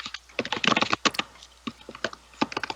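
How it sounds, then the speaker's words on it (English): Rapid typing on a computer keyboard, dense bursts of key clicks with brief pauses, close and clear with no talking. "Nicole, are you typing"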